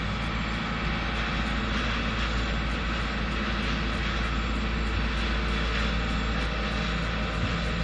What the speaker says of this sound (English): So the ferry seems to be running a diesel engine